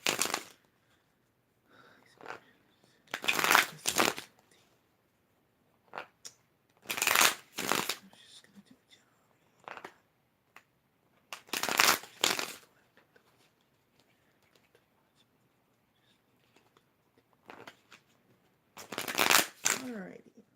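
Tarot cards are shuffled in repeated loud, close riffling bursts, each lasting about a second, separated by quiet pauses. Faint, soft noises fall between the bursts.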